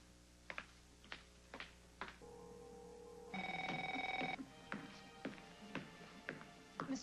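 An office telephone rings with a trilling electronic bell burst lasting about a second, set among scattered keyboard taps and clicks nearby.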